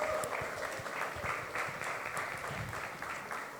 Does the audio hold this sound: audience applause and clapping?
yes